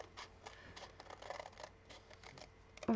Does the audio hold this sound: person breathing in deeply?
no